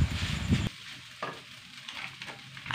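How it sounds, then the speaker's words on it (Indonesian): Sauce is stirred into nasi goreng, Indonesian fried rice, in a hot pan, with a burst of sizzling and scraping at first, then quieter frying crackle and light stirring strokes. "Aduk supaya sausnya merata."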